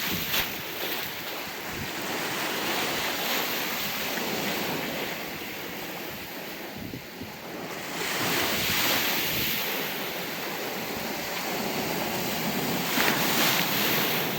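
Stormy sea surf and gusting wind on the Odesa coast, with a continuous loud roar of breaking waves and wind buffeting the microphone, swelling in the second half; no voices.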